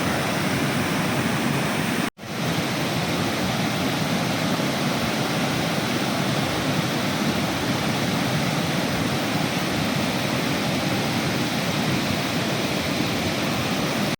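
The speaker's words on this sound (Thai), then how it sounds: "คือสภาพน้ำตกที่ผมเดินข้ามมาเมื่อกี้นะฮะ" A waterfall on a forest trail down from Phu Tabaeng roars as a loud, steady broadband rush of falling water, with one brief dropout near the start.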